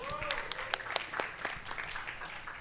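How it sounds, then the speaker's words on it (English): Audience applause at a workshop event, scattered sharp claps over a busy room for a couple of seconds, moderately loud, with faint murmuring underneath. "Can we give him another round of applause"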